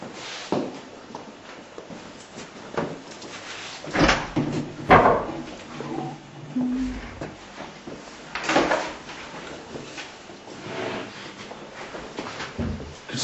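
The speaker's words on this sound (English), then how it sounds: "Let's open that door." A door is handled and pushed open amid scattered knocks, creaks and shuffling, with a few louder clunks along the way and no talking.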